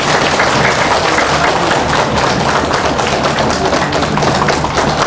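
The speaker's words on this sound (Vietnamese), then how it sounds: "Tất cả mọi người chúng ta cho một tràng pháo tay ha." Attendees at a Buddhist dharma talk gathering give a loud, close round of applause during a flower offering, a thick, continuous patter of many hands with no gap and no speech over it.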